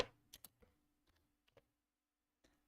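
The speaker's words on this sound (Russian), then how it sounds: "очень шумная клавиатура" Clicky, noisy computer keyboard typed in a few scattered bursts, sharp taps spaced irregularly with gaps of quiet between, fairly faint and close with no voices.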